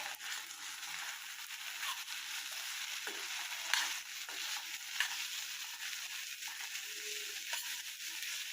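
Ivy gourd and peanut fry sizzling steadily in a frying pan as it is stirred, with occasional scraping clinks of the spoon against the pan; constant close-up frying hiss with no talking.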